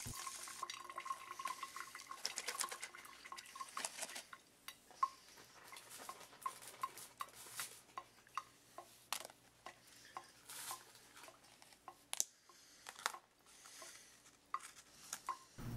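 Sugar cubes swirled with sand, gravel and warm water in a container, quiet sloshing and gritty rattling with scattered clicks and taps of grains against the sides, faint and close.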